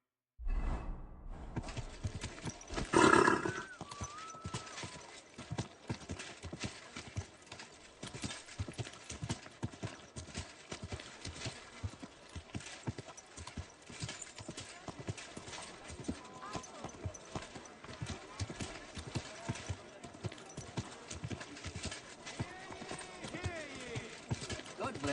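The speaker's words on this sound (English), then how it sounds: "Easy, good horse." Steady clip-clop of horse hooves in Kingdom Come: Deliverance II, a continuous even trotting rhythm close by, with a brief snort or whinny near the start and game voices talking over it.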